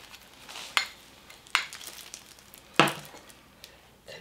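Vegetables being stir-fried in a pan with garlic and chopped green onion, a soft sizzle punctuated by three sharp utensil clacks against the pan.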